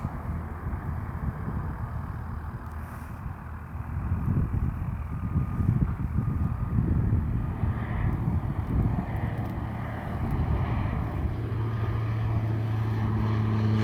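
An air ambulance propeller plane drones steadily in the distance at Inverness Airport, its low engine hum blending with wind buffeting the microphone.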